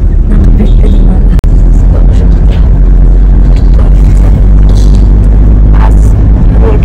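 A car driving on a clear road, heard from inside as a loud, steady rumble and road noise with a momentary cutout early on, then continuous travel.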